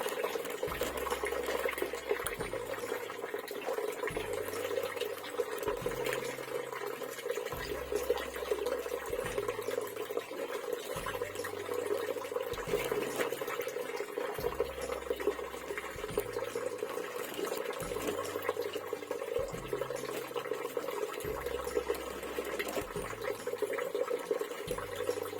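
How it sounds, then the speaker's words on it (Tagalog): Chlorine-free spring water drips and trickles steadily into a catfish tank on a farm, a continuous wet splashing with a faint, regular low pulsing beneath it. "itong tubig na pumapatak dito, ito yung tubig galing bukal"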